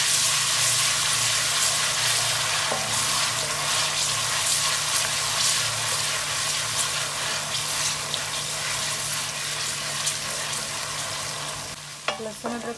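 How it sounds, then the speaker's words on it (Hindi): Garlic and ginger sauté in hot oil in a pan, a loud, dense sizzle with scattered crackles and a few stirring clatters near the end, close and steady with no voices. "लहसुन अदरक सौते हो चुका है"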